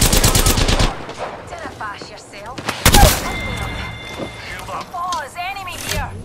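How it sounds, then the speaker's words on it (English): Gunfire in the video game Apex Legends during a ranked match, rapid loud bursts at the start and around the three-second mark, mixed with game voice lines and player chatter. "I'm taking shots."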